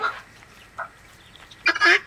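A noisy male farm bird, a rooster or boy duck, gives a short honking call and then a louder, longer burst of harsh honks, close by in a quiet yard.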